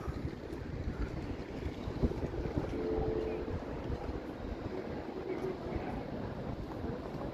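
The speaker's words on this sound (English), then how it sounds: "It is a bit windy though." Wind gusts across a microphone on a warm day in Toronto, a low continuous rumble of buffeting that stays fairly even and fills the whole stretch.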